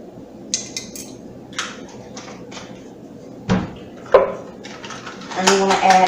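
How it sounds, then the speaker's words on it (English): A spoon clinks against dishes while a quarter teaspoon of allspice goes into homemade banana pudding in a home kitchen; scattered light taps and clatter, then a louder cluster of clinks near the end. "we're going to add 1/4 teaspoon of allspice."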